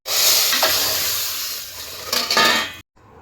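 Tomatoes frying in a hot pan for a lentil and tamarind dish, a bright steady sizzle with a couple of metallic utensil clinks, ending abruptly in near silence.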